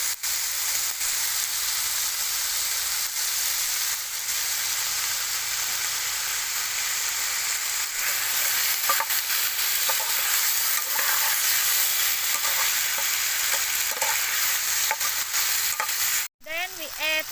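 Eels fry with oyster sauce in a hot pan, a steady loud sizzle with occasional stirring scrapes throughout and a sharp clatter near the end.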